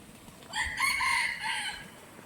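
A bantam rooster crows once, close and clear: a rising call held and then falling away, with light background noise and no talking.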